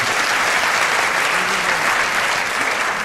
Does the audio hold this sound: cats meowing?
no